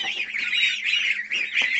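Shrill, chattering calls of guinea fowl and geese overlap in a busy farm flock, with the occasional honk mixed into the squawking chorus.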